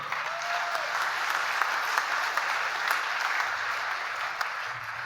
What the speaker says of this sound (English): Another round of applause for GP Friel.